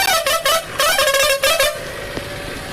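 Bus horn honks repeatedly in loud, bright blasts, four main bursts with short gaps, sounding close and alone without any voices.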